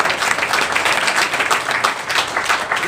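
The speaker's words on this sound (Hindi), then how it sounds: "इसके लिए बहुत जोरदार ताली हो" An audience at a CEO meeting applauding, dense sustained clapping that fills the room loudly throughout.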